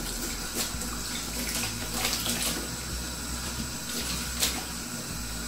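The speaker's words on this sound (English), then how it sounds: "I'm going to fill the bowl back up with some warm water again." Warm water runs steadily from a tap into a bowl at a sink, used for cleaning a telescope mirror, a continuous close hiss and splash with no voices.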